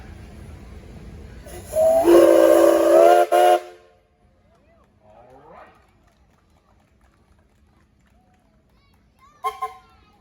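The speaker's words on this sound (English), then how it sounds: "Any whistles, Kevin?" A steam traction engine whistle blasts loudly for nearly two seconds at a steam and threshing show in Sycamore, Illinois, then fades to quiet hiss; a short second toot sounds near the end.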